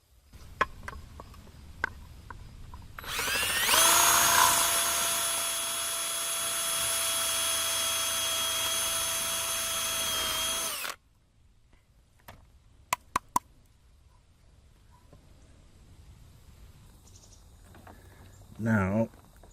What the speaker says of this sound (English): Now I gotta drill a hole close to the top, or right at the top of this, to catch the wires